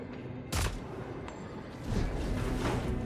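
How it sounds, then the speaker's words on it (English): Gunfire in the video game Death Stranding 2: a sharp shot near the start, then a heavier burst of blasts later over a steady rumbling game background, with no talking. "So now we're going to shoot."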